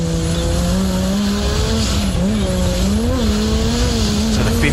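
A race car engine at the Gundy 500 track holds a loud, steady high drone with pitch wobbling up and down as it works through corners, continuous and close, with faint tire noise underneath.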